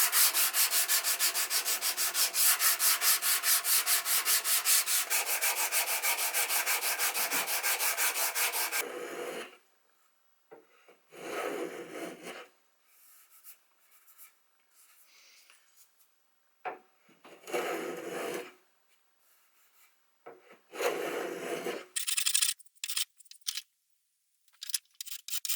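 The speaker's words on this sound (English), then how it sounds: "So now I'm just going to sand the edges just with a hand block" Hand sanding block rubbing along the edges of a wooden house number sign: a long steady close scratchy stroke sequence, then shorter separate bursts of rubbing with quiet gaps between.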